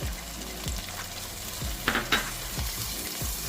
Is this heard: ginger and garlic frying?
yes